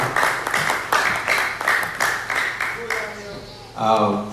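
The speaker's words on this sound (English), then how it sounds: "A round of applause, please." Conference audience applauds in a broad, steady wash of clapping that swells and pulses for several seconds, with faint voices in the background before a louder burst near the end.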